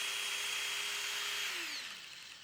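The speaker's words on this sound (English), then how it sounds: "You're going to have to keep that drill on high." A cordless drill driving a paint sprayer whines at high speed in a steady, fairly faint tone, then winds down as it is switched off at the end.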